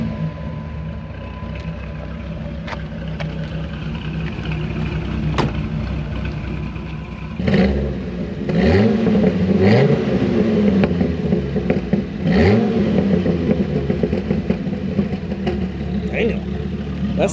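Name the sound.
third-generation Dodge Viper V10 engine accelerating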